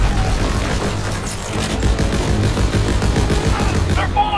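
Rapid machine gun bursts and scattered gunfire in the video game Call of Duty WWII, loud and close, with a sustained rattle of shots and battlefield booms, and brief voices mixed in.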